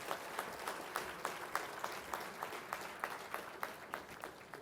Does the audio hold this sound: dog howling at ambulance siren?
no